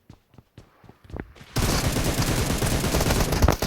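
Gunfire in the mobile battle-royale game PUBG Mobile starts with a few scattered sharp shots and then breaks into a dense, continuous burst of rapid automatic fire that stays loud and close to the end.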